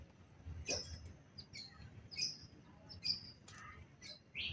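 A neighbour's birds, not pigeons, give short, high chirps and tweets at intervals outdoors, moderately distant over a low background rumble.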